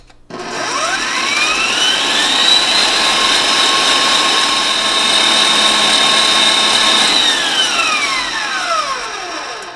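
An electric mixer runs on high, beating meringue. It speeds up to a loud, steady whine, holds for several seconds, then winds down near the end. No talking.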